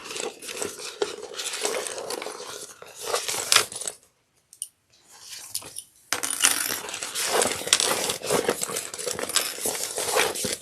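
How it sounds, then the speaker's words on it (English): Metal clips being unfastened from the strap of a fabric sling bag, sharp jangling clinks and rattles in quick bursts, with a short pause of near silence midway. "I'm going to take these clips off this strap."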